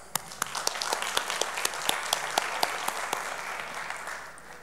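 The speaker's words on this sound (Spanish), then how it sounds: "vamos a recibirlo con un fuerte aplauso." A small conference audience claps, with distinct sharp individual claps over a soft applause bed, tapering off after a few seconds.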